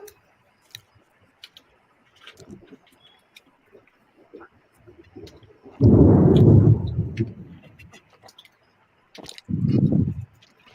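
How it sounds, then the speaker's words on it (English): Thunder from a recorded lightning storm, two deep rumbling bursts, a longer loud roll mid-way and a shorter one near the end, among scattered small ticks and clicks in a quiet room. "Now, is that Thunder?"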